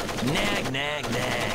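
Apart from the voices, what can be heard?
gunfire in Splinter Cell: Pandora Tomorrow video game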